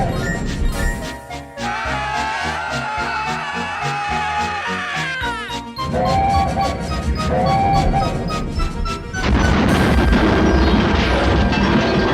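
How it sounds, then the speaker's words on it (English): A loud crash bursts out in an animated story about tank engines on a railway, booming and clattering over busy background music, with a second jolt of noise toward the end. "There was a loud crash, and Humphrey was just in time to reverse."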